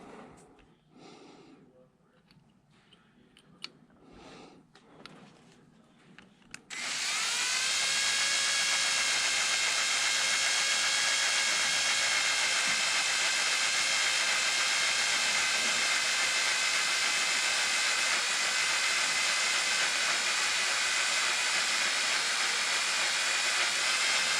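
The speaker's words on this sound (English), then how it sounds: "And yes, I'm drilling it slow." A few seconds of faint clatter, then a loud, steady power-drill whir with a high whine, drilling slowly into a Vulcan 1600 motorcycle part for oil flow, running without a break to the end.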